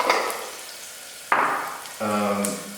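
Cumin seeds hit hot oil with chili already frying, bursting into a sharp close sizzle that fades, then flares again with a second loud crackling burst and a low hum underneath.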